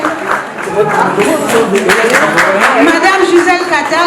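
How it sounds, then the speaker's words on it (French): An audience at an awards ceremony applauds in a dense, steady patter of clapping while someone speaks over it through a loud PA. "S'il vous plaît, applaudissez."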